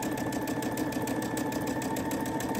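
A sewing machine stitches steadily along a seam, a constant mechanical whir with a fast regular needle rhythm, close and continuous throughout with no talking.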